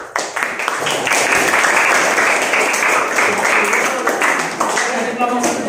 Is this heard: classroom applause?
yes